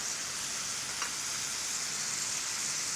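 Garlic pepper black tiger prawns frying with cilantro in a hot pan, giving a steady, close, bright sizzle with one brief scrape and no talking.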